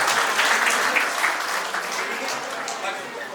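An audience at a public gathering breaks into loud, sustained applause, dense clapping that fills the space and tapers slightly toward the end, with a voice audible over it.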